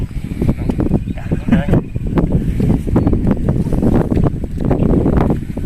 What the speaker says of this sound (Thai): อากาศลมลมก็จะเบาเบาลงกว่าตอนที่เรามาถึงตอนแรกนะครับ